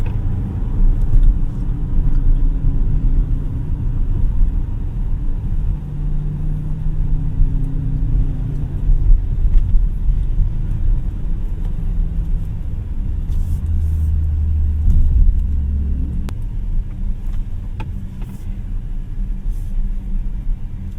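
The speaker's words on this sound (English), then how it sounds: "When you get going, you can hear the revs." A 2025 Ford Territory Hybrid driving, with a steady, moderately loud engine hum and low road rumble from inside the cabin, rising gently in revs around the middle and easing off later, with no talking.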